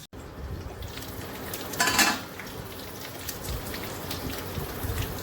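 A lid clatters onto a frying pan of potol sizzling in oil, one sharp metallic clank over a steady crackling fry, with faint clinks and continued sizzle afterward.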